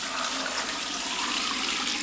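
Water pours steadily over apples while putting up food with a sugar recipe, a close, continuous rushing splash lasting throughout with no talk.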